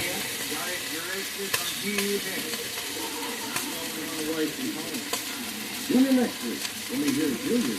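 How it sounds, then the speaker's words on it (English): An arm roast sears in a pan, its fat popping and crackling in a steady sizzle, while a voice talks over the cooking near the end. "That fat's popping real good."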